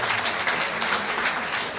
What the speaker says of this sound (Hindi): आगे से लेकर पीछे तक तालियां बनती है उसके लिए